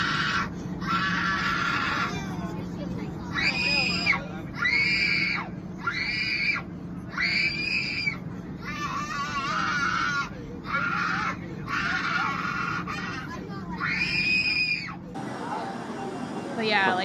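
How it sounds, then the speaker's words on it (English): A woman on a flight screams repeatedly in long, piercing bursts separated by short pauses, loud and close over a steady cabin hum, with a brief shift in background near the end. "she's screaming and throwing such a fit"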